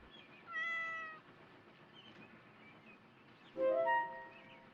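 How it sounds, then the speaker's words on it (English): A small cat meows twice, each a drawn-out, mid-pitched call about a second long, separated by a short quiet pause, near and clear, with no voices. "There, in front of Rusty, was a small cat."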